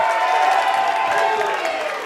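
A wrestling crowd at an indie match cheers with a sustained roar of voices and whoops, loud and continuous, a commentator's voice faintly woven underneath.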